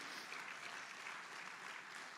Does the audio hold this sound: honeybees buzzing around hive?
no